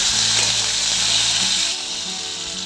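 Chopped tomato dropped into hot oil already seasoned with ginger and asafoetida, giving a loud, steady sizzle that drops to a quieter hiss partway through, with no talking.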